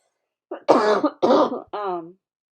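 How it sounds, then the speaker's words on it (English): A few throaty coughs in quick succession, close and fairly loud, ending in a short voiced rasp. "I have to cough now"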